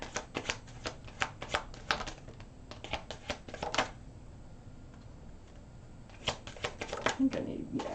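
Tarot cards are shuffled in quick bursts of crisp, rapid flicking and riffling, close and fairly quiet, with a pause between bursts and a voice talking softly at times.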